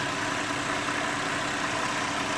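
A car engine idles steadily, a continuous even rumble with a faint rhythmic throb and no talking, during a Seafoam motor treatment fed through a vacuum line.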